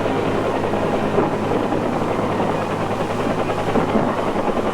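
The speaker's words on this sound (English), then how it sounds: "Wave after wave of helicopters lifted the fighting men into the assault." A steady, loud rotor roar with a dense rumbling throb continues without a break, like helicopters flying close overhead.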